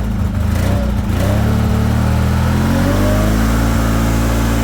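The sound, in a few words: V-twin mini tractor engine revving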